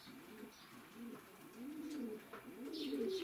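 Pigeons cooing indoors in an enclosed winter loft, a group of birds kept inside away from hawks and owls; repeated soft rolling coos overlap one another close by, with a few faint higher chirps and no talk.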